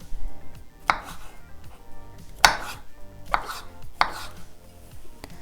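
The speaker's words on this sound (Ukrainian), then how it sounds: "Я їх беру і нарізаю на такі шматочки." A knife chops sharply through button mushrooms against a cutting board in a few irregular strokes, close and crisp, with quiet pauses in between.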